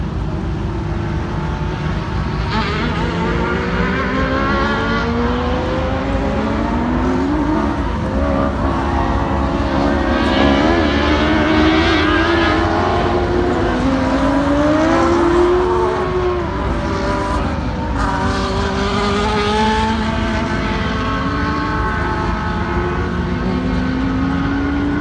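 A mod lite race car engine races around a track, its wavering tone climbing and falling as it revs and shifts, loud and continuous throughout with no voices.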